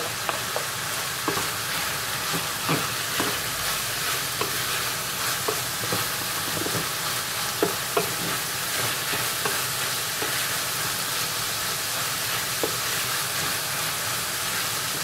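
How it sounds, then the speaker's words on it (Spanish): Chopped carrot goes into a pan of rice and vegetables, which fry with a steady close sizzle and crackle while being stirred, scattered with small scraping clicks and no voices. "vamos a agregarle la zanahoria bien picada"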